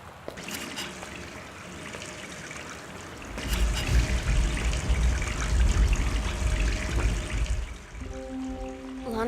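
Tap water in the Gone Home house runs in a steady trickle, growing louder midway into a fuller splashing flow, fairly close and alone before a low tonal hum takes over at the end.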